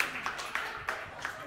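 A small, sparse round of applause for writer and lawyer Pablo Martínez Burkett at a literary talk: a handful of spaced, soft claps about a third of a second apart, with faint voices underneath.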